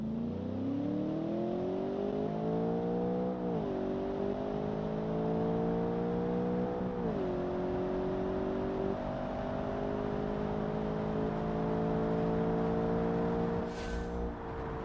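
A standard car built in Automation revs steadily up through its gears on a drag strip, the engine note climbing, dropping at each of three shifts, then pulling on at a sustained drone.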